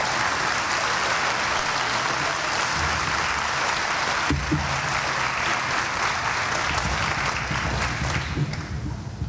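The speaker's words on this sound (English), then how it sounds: "we got to clap a little bit harder for our families than that" A commencement audience applauds graduates' families, dense sustained clapping from a large crowd filling the whole stretch, steady and fairly loud with a slight swell midway.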